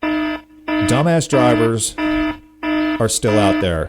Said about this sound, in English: And you can hear the alarm going off.